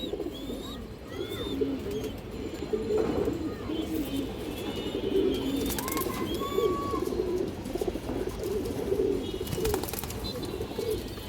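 Pigeons coo softly in a loft, including a black Muslodom hen, with faint repeated low coos and scattered chirps under a busy background of rustling and distant noise.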